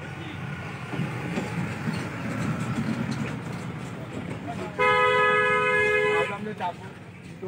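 A toy train at Eco Park in Kolkata sounds a loud, sustained horn toot midway, after a stretch of rumbling movement and crowd noise, with people talking nearby.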